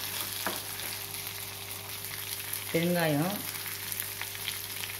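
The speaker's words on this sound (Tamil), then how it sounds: "வெங்காயம் சிவந்தோடனே தேங்காய் நல்லா ஃப்ரை ஆகட்டும்." Onion and coconut frying in a pan for a pennywort chutney, a steady soft sizzle close by, with a brief spoken word partway through.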